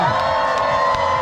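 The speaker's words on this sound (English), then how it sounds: "let's see how much noise you guys can make" A large crowd at a dock-diving dog show at the California State Fair cheers and hollers loudly, a dense sustained roar of shouts and whoops with children's voices, close and continuous throughout.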